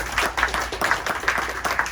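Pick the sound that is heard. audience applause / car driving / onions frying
audience applause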